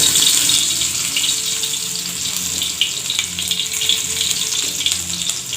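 Chopped garlic sizzles in hot mustard oil with a loud, continuous crackling hiss and small spits. It stays close and steady throughout, with no voices.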